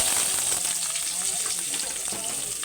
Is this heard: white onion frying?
yes